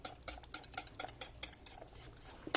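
A whisk scrapes and clicks steadily against the bottom of a pot of thickening homemade banana pudding, quick irregular strokes close by with no talking.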